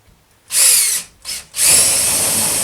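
A power drill bores into a slab door during a bifold-door swap, whining loudly in three bursts: a half-second run, a short pause and quick blip, then a sustained drive to the end.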